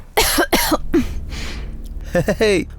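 A woman coughs in several sharp, loud bursts close by, with pauses between them, and a rougher throat-clearing cough at the end. A voice is heard briefly between the coughs.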